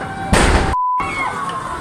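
A loud, sudden burst booms out from burning market stalls during a fire, followed by a brief dropout and then lingering noisy rumble in the background.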